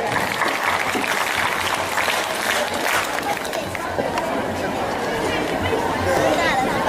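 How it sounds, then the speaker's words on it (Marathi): Applause and crowd chatter from an audience welcoming guests at a school competition event, a continuous dense wash of clapping mixed with murmuring voices throughout. "तर जोरदार टाळ्या वाजवून आपण त्यांचं जोरदार स्वागत करूया"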